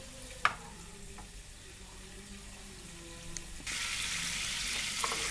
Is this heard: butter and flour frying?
yes